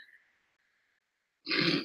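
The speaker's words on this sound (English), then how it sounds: "I am burping this wine up." A burp after drinking red wine, one short loud eructation rising abruptly out of near silence at the end, preceded by a faint throaty tone.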